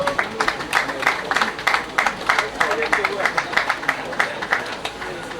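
Audience applause at a hospital grand opening and commissioning ceremony, greeting Sir Emeka Okwuosa: a steady spread of hand claps from a room of people, moderately loud and continuous for several seconds, with a murmur of voices underneath.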